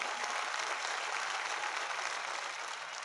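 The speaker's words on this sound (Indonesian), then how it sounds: "Boleh tepuk tangan ya." Studio audience applauding on Indonesia's Got Talent 2014, a continuous wash of clapping at low level, even throughout the short stretch.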